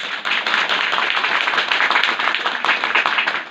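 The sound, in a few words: congregation clapping hands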